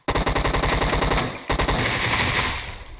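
Groza rifle gunfire in PUBG Mobile, loud close rapid automatic bursts in a steady rhythm, one brief pause, then a long sustained burst that fades at the end.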